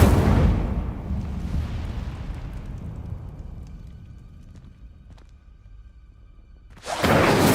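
Incendio fire spell burst in Hogwarts Legacy: a loud roaring whoosh of flame that slowly fades over several seconds into quiet ambience, followed by another sudden bright burst at the end, with no talk.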